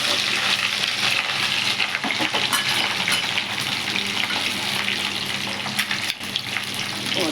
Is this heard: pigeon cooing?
no